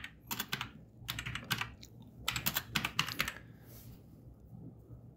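A copier's IP address is typed on a computer keyboard, heard as quick, close key clicks in two rapid clusters with a brief pause between them and no talk over them.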